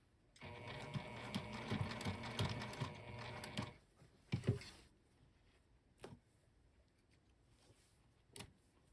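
A sewing machine stitches a fabric sling bag in a steady, close whirring run of about three seconds, followed by a few isolated clicks and knocks as the work is adjusted, with quiet background otherwise.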